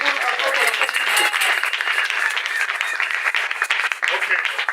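A church congregation breaks into sustained applause and cheering during a worship service, dense clapping filling the room steadily throughout, with voices mixed into the crowd noise.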